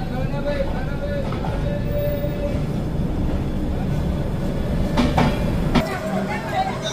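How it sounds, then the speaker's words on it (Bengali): A passenger train running nonstop between Kharagpur and Balasore at night, heard from inside a carriage as a steady rumbling rattle with a few brief clanks and squeaks. "তো খড়গপুর থেকে আমাদের ট্রেন ছেড়ে দিল পরবর্তী স্টেশন বালেশ্বর।"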